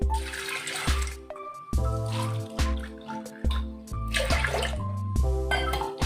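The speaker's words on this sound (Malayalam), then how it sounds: "ഇതിലേക്ക് 2 ഗ്ലാസ് വെള്ളം കൂടി ഒഴിച്ചു കൊടുക്കാം." Water poured into a pressure cooker holding lentils for dal, coming in several separate gushing pours with short pauses between them, close by and fairly loud.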